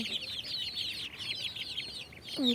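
Chickens cluck in a steady, soft chatter of short repeated notes, fairly close, with a louder call breaking in at the very end.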